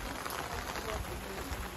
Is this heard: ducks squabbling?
no